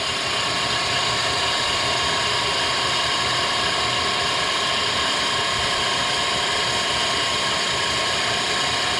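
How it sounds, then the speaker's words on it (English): The grinding head of a 2005 Reform Type 51 AR1500 surface grinder is being raised. It gives off a steady, loud mechanical whir and ratcheting gear drone that holds unbroken throughout, with no one talking. "When I switch this to manual, it indicates that the down feed is off, and we can raise the grinding head."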